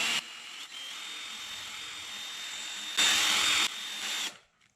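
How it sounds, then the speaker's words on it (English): A power drill on low speed polishing a car window, whining steadily at a moderate pitch, swelling louder for a moment near the end before spinning down to silence. "I'm gonna put my drill on the lower speed because we're not trying to burn through"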